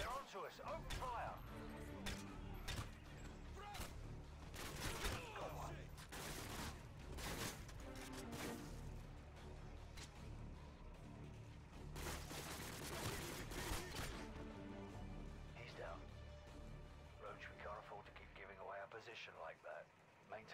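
Intense gunfire during a Call of Duty Modern Warfare Contingency mission: dense bursts of rifle and machine-gun fire, loud and continuous with some crashes, while voices talk over the battle.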